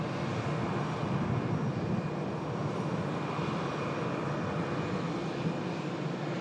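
A Virgin airliner idling at the far end of a runway, a steady distant jet engine drone holding level throughout, with no voices.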